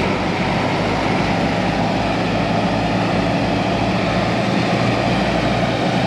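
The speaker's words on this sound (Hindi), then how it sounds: "भाइयों दोनों ही ट्रैक्टर स्टार्ट करवा दिए, 1800 चक्करों पर चलवाएंगे दोनों ट्रैक्टरों को, 7 फीट के रोटावेटर के साथ में ही है" Two Sonalika DI-55 tractors with 7-foot rotavators attached run together at about 1800 rpm in low first gear, a loud, continuous low diesel drone with a pulsing throb throughout.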